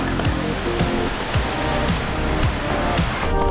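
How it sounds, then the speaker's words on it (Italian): A mountain bike crosses a river on a descent from Monte Valle in the Dolomites, water splashing and rushing loudly and steadily up close, with bumps and clatter from the bike mixed in. "Attraversamento fiume,"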